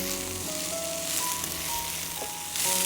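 Capsicum sautés with a pinch of black pepper in a hot pan, giving a steady close sizzle and crackle of frying that swells slightly near the end.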